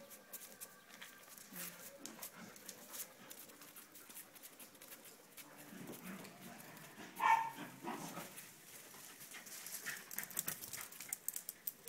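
An old dog playing at an animal rescue, with scattered barks and yips plus pattering around it and one louder bark midway, moderately near, under faint voices.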